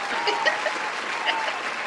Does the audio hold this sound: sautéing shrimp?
no